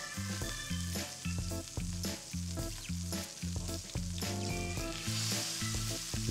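Steady sizzling of meat browning in a hot pan continues throughout, with rhythmic background music playing over it.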